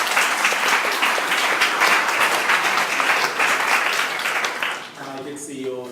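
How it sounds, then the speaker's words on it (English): A conference audience bursts into loud, dense applause that fills most of the moment, then thins and fades out as a voice begins speaking at the end. "So can I get a round of applause?"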